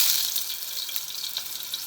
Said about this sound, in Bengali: তো তেল গরম হয়ে গেছে, দিয়ে দেবো। আগে বেগুন ভেজে নেব